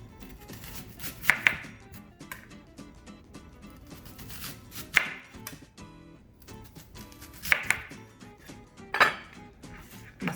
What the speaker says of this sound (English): I'm gonna chop up the onion.